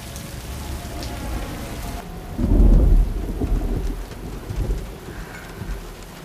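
Steady rain hisses throughout as a deep rumble of thunder swells in the middle, then fades back into the downpour, from the film Blade Runner 2049.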